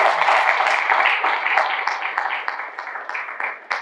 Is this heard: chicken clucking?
no